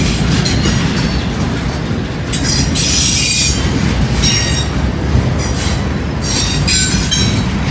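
A Conrail freight train rolls past close by, loud continuous rumbling with wheel clatter and bursts of high squealing from the wheels.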